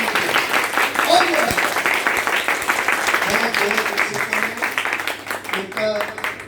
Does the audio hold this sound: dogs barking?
no